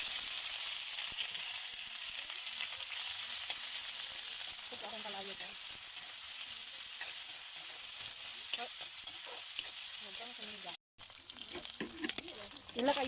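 Meat frying in a pan in a home kitchen, giving a steady, dense sizzle throughout, with occasional stirring clatter and faint voices in the background. A moment of near-silence cuts in before the sizzle resumes.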